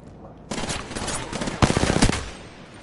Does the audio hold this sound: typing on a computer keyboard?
no